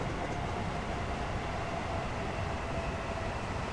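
A fast local train running at high speed in Train Sim World 4 begins braking, with a steady rumbling roll and faint brake hiss holding at an even level, and no voices.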